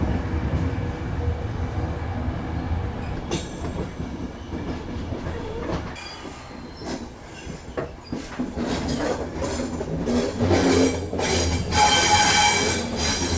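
A night train from Milan to Sicily rolls along with rumbling, rhythmic clicking of wheels on track and high metallic squeals growing louder toward the end.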